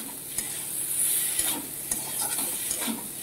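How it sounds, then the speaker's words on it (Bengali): A spice mixture frying in a pan, stirred with a spoon: steady hiss of sizzling oil with repeated scraping strokes roughly every half second, close and clear, no voices. "তো এই যে নাড়াচাড়া দিচ্ছি"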